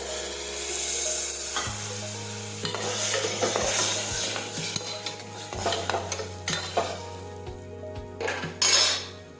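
Water goes into a hot pressure cooker of ridge gourd curry, bringing a sizzling hiss, while a spoon stirs and scrapes against the metal in uneven knocks, close and clear.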